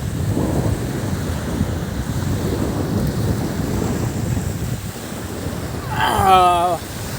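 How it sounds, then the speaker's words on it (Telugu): Sea waves at Al Sawadi beach near Muscat roll and wash steadily in a continuous broad surf roar with wind buffeting the microphone, and a brief whistling tonal sound rises near the end. "అలలు ఇట్లా"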